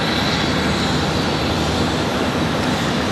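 An American Airlines airliner arriving at Charlotte Douglas airport, its engines a steady broadband roar held at an even, loud level throughout, with no voices.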